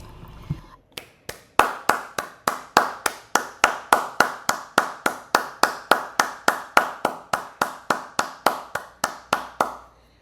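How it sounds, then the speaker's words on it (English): A single pair of hands clapping slowly and steadily, about two dozen sharp, close, loud claps in an even rhythm that speeds slightly, with a brief quiet moment before the clapping begins. "She deserved an applaud."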